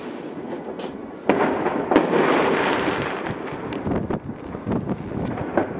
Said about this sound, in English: It's a cheap rocket from China hit my balcony.